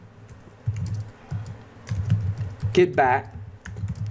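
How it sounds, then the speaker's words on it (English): Brisk typing on a computer keyboard, short clusters of soft key clicks in an irregular rhythm, close by, while someone speaks briefly over it. "Let's type this out."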